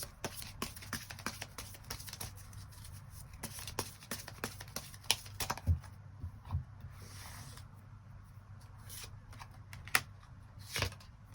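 Tarot cards being shuffled and laid out, giving soft repeated riffling and sharp card snaps throughout, fairly close and quiet against a low steady hum.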